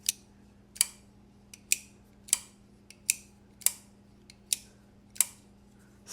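Sharp, close metallic snaps repeat in a steady rhythm, a Kizer Mini Sheepdog button-lock folding knife's detent clicking open and shut about every half second.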